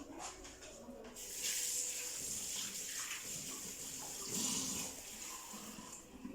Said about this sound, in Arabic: غنزيد الماء